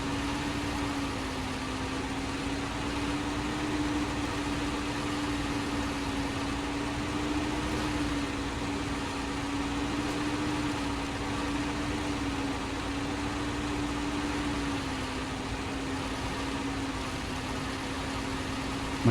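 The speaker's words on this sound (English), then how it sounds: "And that's just where the engine lacks the torque now." In the video game Snowrunner, a truck engine labors uphill, giving off a steady, low, droning hum that stays fairly quiet and even throughout, with no talking.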